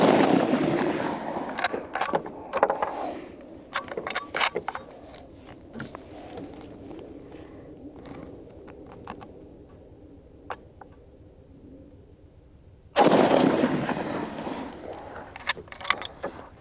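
A .30-40 Krag-Jørgensen rifle fires two loud, booming shots, one at the start and one near the end, with metallic clicks and clacks of the action being worked in between.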